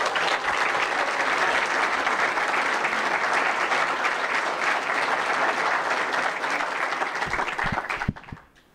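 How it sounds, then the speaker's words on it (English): Loud, dense applause fills an introductory press conference for a new men's basketball coach, greeting athletic director Kelly Wells. It holds steady for about eight seconds, then cuts off abruptly. "would you also give a round of applause for our athletic director, Kelly Wells?"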